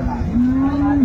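A dairy cow at a village cattle market in Dinajpur gives a single loud, sustained moo lasting about a second, close to the microphone with faint market noise behind.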